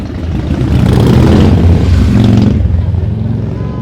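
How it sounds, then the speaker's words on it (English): Motorcycle engines, including Harleys, rumble and rev loudly on a busy Beijing street, a dense low throaty drone that holds steady for several seconds before easing slightly, with crowd chatter mixed underneath. "we've got basically Harleys and you've got all these kind of things"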